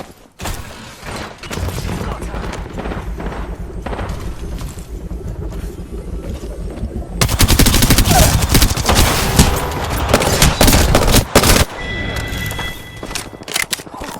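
Rapid automatic gunfire and overlapping bursts fill an Apex Legends battle royale firefight. The shooting is loud and nearly continuous, with a heavier, denser volley in the second half and brief in-game voice callouts underneath.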